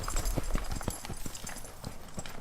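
A horse trots in a steady rhythm at a ranch riding lesson, its hooves clip-clopping repeatedly and fairly close, with a faint rumble of movement behind.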